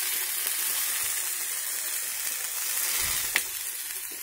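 Medium tomatoes frying in a pan for dondakaya chutney, giving off a steady close sizzle that holds even throughout, with one soft knock near the end and no voices.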